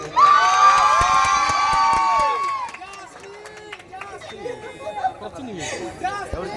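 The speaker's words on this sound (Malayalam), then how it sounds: "കൈയടിക്കോ എല്ലാവരും ഒന്ന്" A crowd cheers and claps loudly for about two and a half seconds, with whoops over steady chatter, before the noise settles into scattered voices and a few claps.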